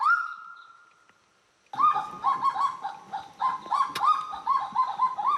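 A kagu, a bird of New Caledonia, gives a loud, repeated barking cry, rising in short harsh bursts after a brief quiet, with a long whistled note at the start.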